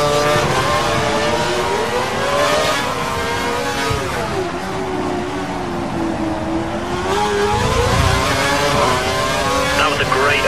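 An F1 car engine in a Singapore Grand Prix racing game revs loud and close, the pitch rising and falling through gear changes for the whole stretch, with a voice speaking over it.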